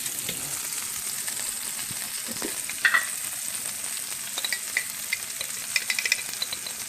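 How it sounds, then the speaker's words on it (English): Garlic sizzling in a hot pan on high heat for a linguine with white clam sauce, a steady close frying hiss with a few light clinks of stirring. "And I'm going to put my garlic in now."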